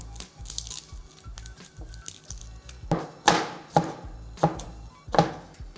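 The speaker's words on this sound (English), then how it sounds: "So just gonna chop the Shadon Beni roughly. Going to smash 6 cloves of garlic." Shadon beni is chopped roughly on a wooden board, then garlic cloves are smashed, giving light rapid knife taps followed by four heavy, well-spaced thumps, close and clear with no talking.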